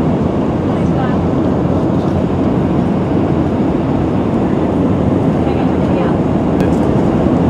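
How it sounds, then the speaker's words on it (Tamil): A jet airliner on a flight to Hong Kong fills the cabin with a loud, constant broadband roar and rumble that holds unchanged throughout, with no speech heard. "இப்போ வந்து நாங்கள் பறந்து கொண்டிருக்கிறோம்"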